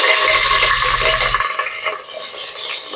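Spices tempering in hot oil inside a pressure cooker, a bright crackling sizzle that starts strong with a low rumble underneath, then fades to a lighter, steady fizz.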